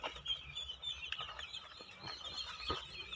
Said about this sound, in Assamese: এইটো কৰকনাথৰ পোৱালি আজি 15 দিন হৈছে।